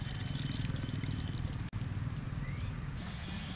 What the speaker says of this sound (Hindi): पानी गर्म हो गया है, तो दाल को हम धोकर हांडी में डाल देंगे।